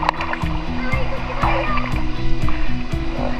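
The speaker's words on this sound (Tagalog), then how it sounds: "ang lalaki ng alon ngayon" Big sea waves at Caramoan island splash and wash steadily nearby, loud and continuous, with people talking and a voice over the surf.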